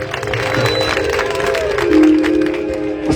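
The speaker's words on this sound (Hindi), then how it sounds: "एक बार जोरदार तालियां बजाएं हमारे संजय मित्तल भैया के लिए" A crowd at a Shri Shyam devotional gathering claps loudly for a speaker, a dense continuous roar of applause and cheering with musical tones sustained underneath.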